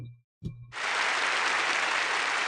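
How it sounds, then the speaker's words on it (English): A brief bump of sound, then a burst of applause from a crowd swells in and holds steady and loud, a dense wash of clapping. "Just applause."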